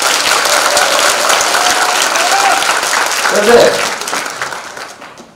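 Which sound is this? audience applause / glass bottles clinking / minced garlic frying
audience applause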